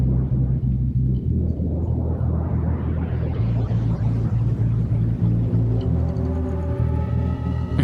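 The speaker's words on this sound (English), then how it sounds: "You get this sound a lot when you play with grain delays." Dense, smeared granular texture from a wet-only grain delay effect in Ableton Live, a low sustained drone under a rising wash of shimmering fragments that climbs and thickens, ending in stacked pitched tones; steady and loud throughout, no talking.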